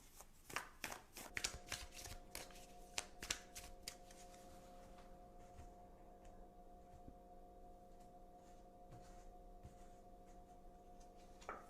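Tarot and oracle cards are shuffled up close in a burst of crisp riffles and slaps over the first few seconds, then give way to softer, sparse handling ticks against a faint steady hum.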